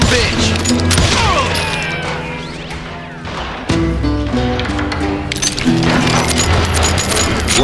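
Gunfire in the Western shooter Call of Juarez Gunslinger, scattered sharp shots and clinking impacts amid loud game music and effects, with an orchestral score running throughout.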